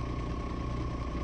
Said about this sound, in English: So the only thing we're changing here is the speed of the engine.